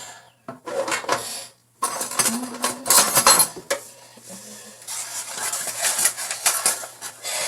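A metal spoon clinks and scrapes against a container while flour is measured for salmon croquettes, a series of close, irregular taps and scrapes with brief pauses.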